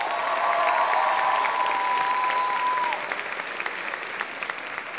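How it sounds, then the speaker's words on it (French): Audience applause fills a cosplay event hall as a performer takes the stage, steady and loud at first, then thinning into scattered claps, with a sustained tone ringing through the early part. "Je vous demande de l'applaudir bien fort, s'il vous plaît."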